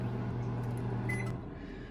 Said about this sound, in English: I'll go ahead and turn the microwave on